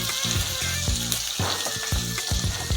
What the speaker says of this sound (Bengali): লো ফ্লেমে আমি মশলাটা ভেজে নিলাম